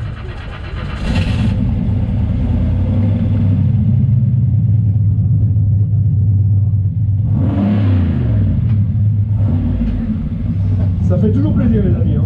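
Classic car engine at an American car show in Toulouse, cold and running low, starting up, then rumbling and revving loudly up close with throttle blips, while people talk nearby.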